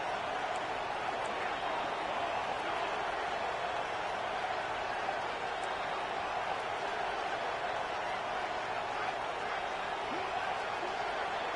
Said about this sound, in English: the crowd roaring, trying to make it difficult